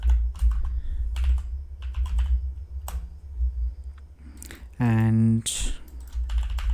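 Keys clatter on a computer keyboard as a file name is typed into a VS Code editor, a run of close, quick clicks with brief pauses, while someone talks over part of it.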